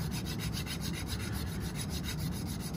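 Continuous rhythmic rubbing rasp as carved wax is filed on a rasp, dense and steady with quick back-and-forth strokes, close and moderately quiet with no talking.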